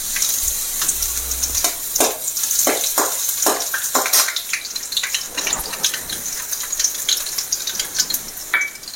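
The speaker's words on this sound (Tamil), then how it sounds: "அடுத்தது இந்த பூண்டை போட்டுக்கலாம்." Garlic cloves dropped into hot oil with cinnamon bark and dried chili sizzle steadily for an Indian ivy gourd stir-fry, a close frying hiss with scattered sharp crackles and pops running throughout, no voices.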